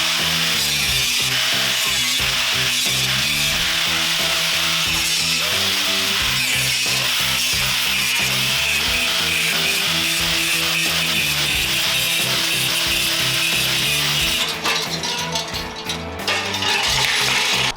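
A power saw cuts curved wooden parts for a 1954 Chevy rear bench seat, a loud, continuous buzzing whine that runs close and steady for the whole stretch, dipping briefly near the end.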